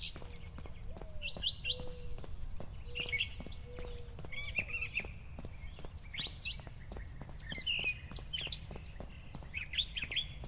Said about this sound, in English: Bird noises aren't bad.